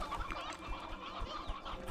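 Sea hen chickens cluck in Slime Rancher 2, a faint, continuous mix of overlapping clucks and squawks in the background with no talk.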